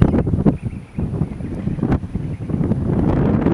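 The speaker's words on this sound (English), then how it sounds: "this is a pretty mild breeze, but the wind is always blowing" Wind blows steadily through a garden near a vertical-axis wind turbine, a soft continuous rushing with gusty swells and mic buffeting, no voices.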